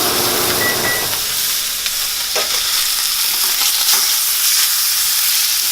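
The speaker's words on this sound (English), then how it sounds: "See how it's nice and seared?" Meat searing in a hot pan, a loud, steady sizzle and hiss running without pause, close up, with a few soft scrapes of tongs.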